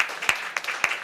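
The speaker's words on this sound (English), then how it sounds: "huge round of applause and huge gratitude for all the work she has done for EMA" Sparse, fairly quiet applause from an audience at the 19th EMA General Assembly, with a few sharper claps standing out over a steady patter.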